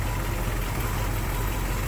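A 1966 Ford Mustang GT's 289 four-barrel V8 idles, recorded up close with the hood open, as a dense, steady, rumbling drone without pauses.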